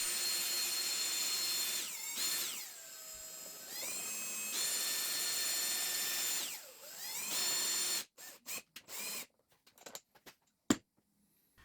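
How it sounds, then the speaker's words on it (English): A power drill chucked onto the end of a threaded rod spins it through a box joint jig, a loud steady high whine with pitch sweeps as it speeds and slows, then stops into a few sparse clicks and knocks. "I've chucked up my drill at the other end."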